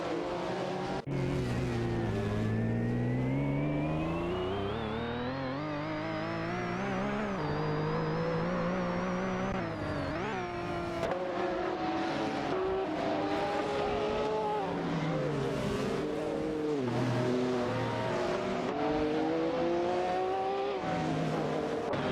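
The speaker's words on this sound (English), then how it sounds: "Babardo and Kinch Evel have advanced to 24th place, successfully overtaking Bucci Zero in their McLaren F1 LM" McLaren F1 LM and other race cars overtaking in a racing video game, with continuous loud engine whine rising and falling in pitch as cars accelerate, shift and pass one another throughout.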